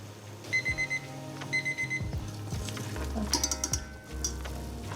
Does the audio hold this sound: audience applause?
no